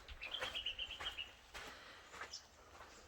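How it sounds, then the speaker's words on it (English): Birds chirping in quiet, open countryside with no neighbours near, a bright series of short repeated calls early on, then scattered fainter calls over a soft background hush. "I don't know if you can hear the birds, and it really is quite peaceful."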